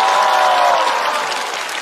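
A comedy club audience at a stand-up show breaks into loud, dense applause that fills the room, holding strong before easing slightly toward the end.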